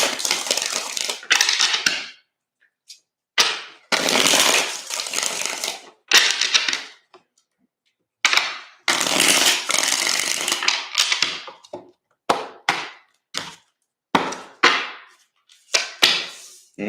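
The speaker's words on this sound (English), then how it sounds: "Three more shuffles here." Tarot cards are shuffled in repeated bursts of crisp, rustling riffles, each a second or two long, separated by short silences, close and fairly loud.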